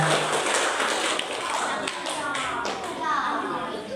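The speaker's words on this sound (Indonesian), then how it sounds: "Tepuk tangan teman-teman." Children clap together at a primary school event welcoming Ramadan, a busy patter of hand claps with young voices and chatter mixed in throughout.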